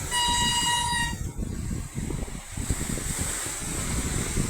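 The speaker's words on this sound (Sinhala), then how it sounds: "කෝච්චියක් එනවා." A train sounds a loud, sustained horn for about a second, then rumbles past close by with a steady, heavy roar of wheels on track.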